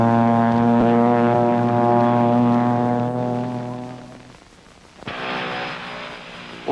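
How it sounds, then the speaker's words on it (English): A Pilatus Porter turboprop STOL aircraft drones loudly and steadily with a strong tonal engine hum that fades after about four seconds, then picks up again with a rising whine near the end. "This turboprop creation is a Pilatus Porter."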